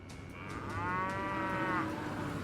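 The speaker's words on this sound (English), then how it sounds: "the panicked moos of the cattle echoed in the night." Cattle mooing in panic at night, one long, loud, drawn-out moo rising and falling over a low rumbling background, with faint knocks at the start.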